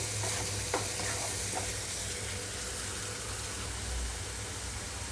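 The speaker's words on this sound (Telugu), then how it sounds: "ఈ మొత్తం టమాటాలు కూడా పచ్చివే కాబట్టి పచ్చివాసన పోయే వరకు వేయించుకోవాలి" Tomatoes and chili powder frying in a pan for potato kurma, giving a steady, close, even sizzle with a few faint stirring clicks near the start and no talking.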